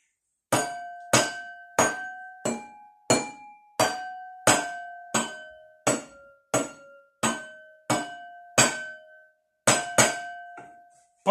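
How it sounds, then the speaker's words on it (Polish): Wine glasses tuned as a homemade glass harp are struck one after another, about fourteen bright ringing clinks in an even rhythm, each with a clear pitched tone that decays quickly, with no talking. "Teraz spróbuję metodę pukaną w moich kieliszkach."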